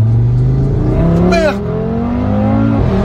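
Audi RS3 with a 600-horsepower engine accelerating hard up a hill, its loud revving rising in pitch through gear changes, with a brief shouted exclamation partway through.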